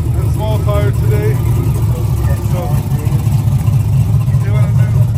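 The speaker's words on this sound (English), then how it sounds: "Got Russell's car out here, warming up." A drag race car, set up for Extreme Street and Small Tire classes, warms up on a cold morning with a loud, steady, close engine rumble, while someone talks over it.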